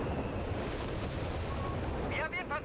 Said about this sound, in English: So Nebelwerfer dropping in shots in the back.